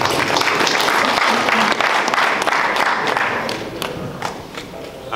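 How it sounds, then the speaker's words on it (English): Boxing event audience applauding heavyweight boxer Chazz Witherspoon, loud dense clapping with crowd noise that gradually tapers off toward the end. "Ladies and gentlemen, big round of applause for Chazz Witherspoon."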